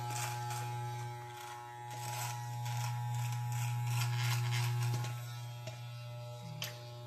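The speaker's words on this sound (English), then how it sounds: "cut out an outline where I'm going to shave," An electric razor buzzes steadily and close up while shaving the outline of a beard, its motor drone holding nearly constant with slight shifts in pitch and loudness as it moves across the face.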